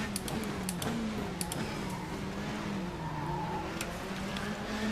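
A Volvo touring car in the Race07 game, WTCC historic class, roars steadily at speed with a wavering engine note as it shifts through gears, with occasional tire squeal and brief clicks, no talk.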